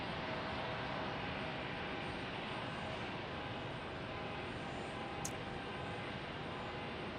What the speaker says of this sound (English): There we've got an American A321 landing.